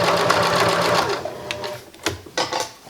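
A sewing machine runs in a steady close-up burst, stitching the fabric seams of a reversible shoulder bag, then breaks into shorter start-stop runs of stitching with no voices.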